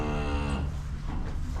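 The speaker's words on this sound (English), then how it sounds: "another day of cattle bawling at me." Cattle bawling on a farm on a frosty morning, a long drawn-out moo that fades into steady low rumbling ambience, fairly close and heard without any talk.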